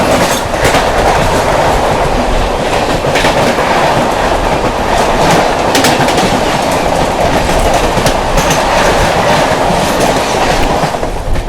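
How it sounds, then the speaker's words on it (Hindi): The 12424 New Delhi–Dibrugarh Rajdhani Express passes close by at speed, a loud, unbroken roar of carriages with steady clickety-clack from the wheels over the rail joints throughout. "ये थी अपनी 12424 new Delhi Dibrugarh Rajdhani express via Tinsukia"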